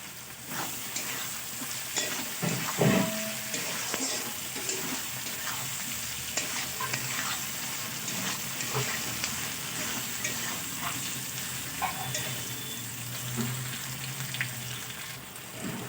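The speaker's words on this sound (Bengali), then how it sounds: "তেলের সঙ্গে নাড়াচাড়া করে নেব" Bitter gourd and potato pieces stir-fried in fish oil, a steady close sizzle running throughout with scraping stirs and occasional clinks of a spatula against the pan.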